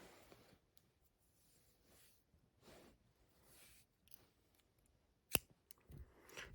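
Scissors snipping a crochet yarn tail, a few soft quiet cuts with one sharper snip, faint and close in a quiet room.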